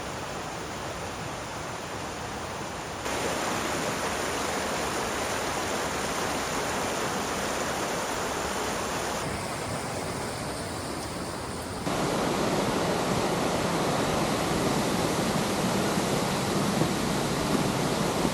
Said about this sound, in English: Finally we rounded a bend and heard the main waterfall just ahead.